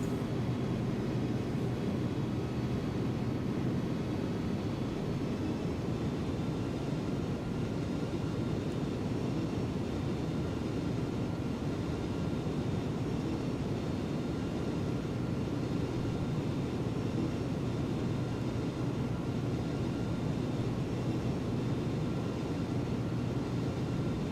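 Steady cockpit drone of a retro Titan Airways airliner in the X-Plane 11 flight simulator, a constant low engine rumble with faint tonal whine, unchanging and alone for over twenty seconds.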